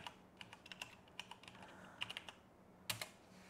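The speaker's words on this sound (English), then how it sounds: "you go into your search bar here and you type in regedit." Keys are tapped on a computer keyboard in a quick, irregular burst of soft, close clicks, ending with a slightly louder keystroke cluster near the end, with no one speaking.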